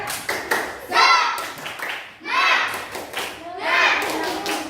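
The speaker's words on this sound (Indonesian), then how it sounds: "Tepuk tangan." Several children clap along in bursts of patterned rhythm, close by, mixed with their voices chanting.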